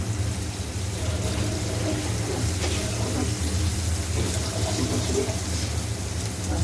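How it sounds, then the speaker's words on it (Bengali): Fish being washed under running water from a tap, a steady, loud, continuous rush that lasts the whole time with no breaks. "মাছগুলা ধোয়া শেষ"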